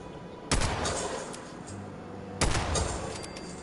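Two sharp, loud revolver gunshots from the video game Fallout 76, about two seconds apart, each with a hard crack followed by a lingering echoing tail, with no talk.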